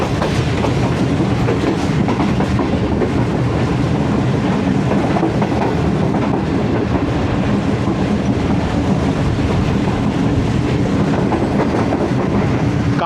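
A Green Line AC business class passenger train running from Lahore to Karachi in Pakistan gives a loud, steady rumble with faint clickety-clack of the wheels, heard from inside the carriage.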